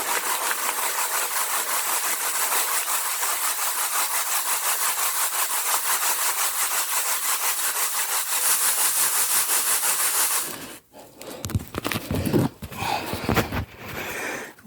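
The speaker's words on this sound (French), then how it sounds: "Je l'ai mis dans le tamis. Je vais le tamiser." Fossil-bearing sediment from the Ypresian–Lutetian transition shaken through a 3 mm sieve in the field, a loud steady rhythmic scraping rasp that continues for about ten seconds, then gives way to irregular clattering and shuffling handling noises.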